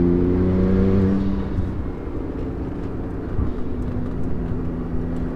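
Tuned 660HP Porsche 911 Turbo S accelerating hard, heard from inside as a loud sustained engine drone with a tonal whine that drops away after a second, then a steady deep pull to the end.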